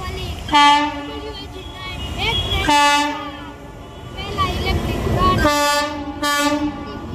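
On the first electric run of the Rajkot-Veraval passenger train, a WAG9 electric locomotive sounds several loud, close, harmonic horn blasts in short repeated bursts over a rumbling, clattering passing train.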